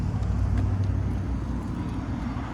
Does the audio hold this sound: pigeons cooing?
no